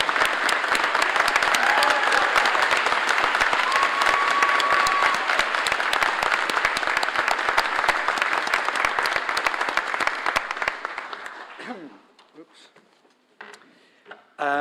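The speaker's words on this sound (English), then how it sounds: "Take the applause" Sustained loud applause fills a hall at a University of St Andrews graduation ceremony, dense clapping from a large audience for about eleven seconds before fading out to near silence.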